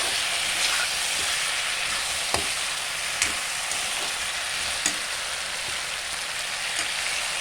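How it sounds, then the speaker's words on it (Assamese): Chopped tomatoes frying in a pan give a steady, close sizzle with a few sharp pops and crackles scattered through, heard alone without any voices. "বিলাহীখিনি এড কৰি মই এইদৰে অলপ সময় ফ্ৰাই কৰি লৈছোঁ"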